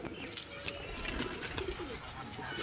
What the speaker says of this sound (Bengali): এই দেখুন পায়রাটা